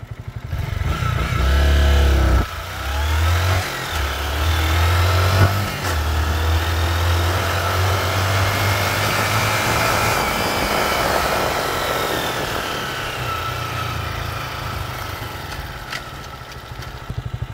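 A motorcycle engine with its original exhaust revs hard through several throttle blips, then settles into a loud, steady rumbling idle, close to the listener with no talking.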